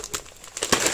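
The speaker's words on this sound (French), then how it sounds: "regardez le packaging, comment c'est super bien emballé." Food packaging crinkles and rustles in short crisp bursts as it is handled up close, with no talk.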